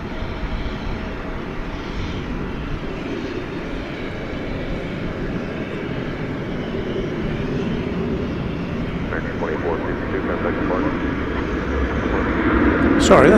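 An American Airlines Boeing 777-200ER jet rumbles at night at DFW Airport, a steady distant roar that swells louder toward the end, with some talk over it.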